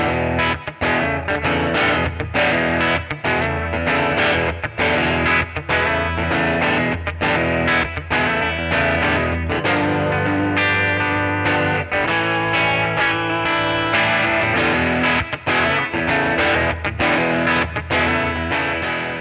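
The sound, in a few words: guitar through Magnatone 213 Troubadour amp with vibrato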